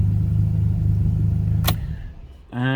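An Alfa Romeo GTV engine with a bad modification idles with a steady low rumble, then a sharp click cuts in and the engine drops away before a brief rough restart.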